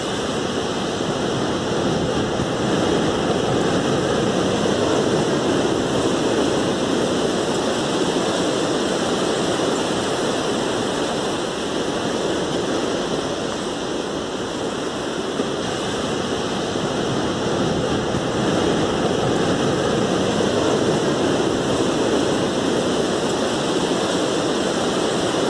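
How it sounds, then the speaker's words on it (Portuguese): Sea waves wash steadily onto a beach in a continuous, loud, broadband roar that keeps rising and falling gently throughout, with no voices and nothing else standing out. "É a praia, isso mesmo, barulhinho do mar, gostoso de escutar."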